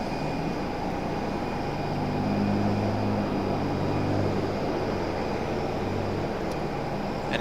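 General aviation aircraft flying near Raleigh-Durham airport, a steady broad engine drone that holds constant and swells slightly midway, with no talk.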